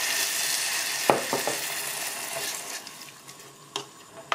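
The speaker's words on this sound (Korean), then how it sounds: "고기가 이제 이렇게 자글자글 소리가 들리잖아요" Pork sizzling and crackling in a pot for Korean tofu stew, a soft steady hiss close by with a few sharp pops and light stirring clicks, and no voices.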